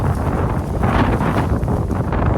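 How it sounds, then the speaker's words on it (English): Strong wind buffeting the microphone, a loud gusty rumble that rises and falls throughout. "It is windy out here like crazy."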